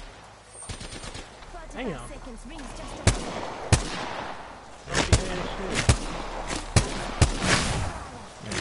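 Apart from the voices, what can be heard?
gunfire in video game Apex Legends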